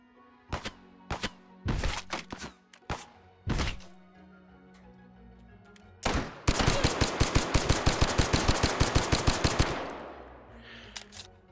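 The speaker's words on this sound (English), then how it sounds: "Shoot him with a pistol." Gunshots in the VR shooter Hot Dogs, Horseshoes & Hand Grenades: several sharp, separate pistol cracks spaced a second or so apart, then a long rapid volley of shots before quiet returns.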